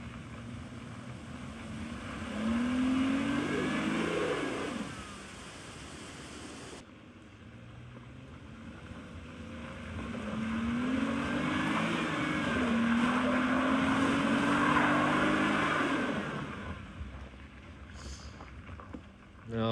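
An off-road car climbs a difficult, muddy mountain track with diagonal ruts, its engine revving in two long strained surges that rise and fall, loud and close, with a brief drop in between.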